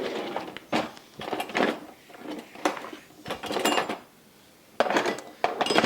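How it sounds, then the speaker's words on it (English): Metal kitchen utensils clatter and scrape as someone rummages for an offset spatula while icing a Mississippi mud cake, several bursts of clinking separated by brief pauses, close and fairly loud. "let me grab a offset spatula."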